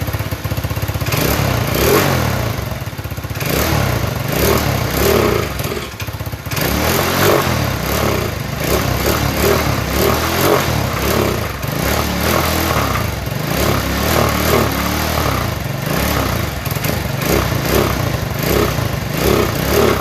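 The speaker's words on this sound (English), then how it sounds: "Let it warm up a little bit. Get all that oil out of the muffler." Small engine running and warming up while oil burns out of its muffler, a loud, continuous close-up rumble with an uneven, pulsing idle for twenty seconds.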